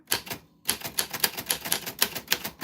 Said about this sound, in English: that happened on the typewriter bell